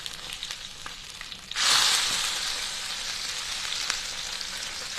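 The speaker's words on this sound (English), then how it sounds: "that's a nice sizzle on there" An arctic char fillet hits a hot frying pan and breaks into a sudden loud sizzle, which then settles into a steady, close crackle of hot oil.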